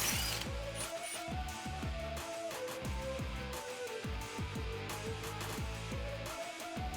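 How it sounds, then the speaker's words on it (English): A ratchet wrench loosens the two 15mm rear brake caliper bolts on a 2015-2018 Mustang GT, making quick, repeated clicking pawl strokes at a steady pace, faint against a busy background hum, with no talk. "Now we're going to undo the two 15mm bolts that are on the back of the caliper."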